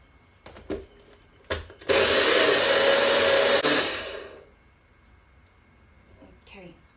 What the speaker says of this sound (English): Only half I'm going to add to my blender. Okay, and we are going to blend.